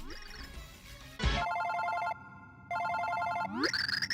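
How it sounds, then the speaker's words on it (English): A phone rings inside Super Paper Mario, a tonal electronic ringtone in two steady bursts broken by a short gap, with game music sweeps before and after. "Oh, wait, that's my phone."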